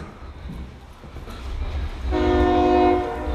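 A northbound CSX freight train rumbles past in Marion, Ohio, with a low steady roar, then its horn blares loud and close in a sustained chord from about two seconds on.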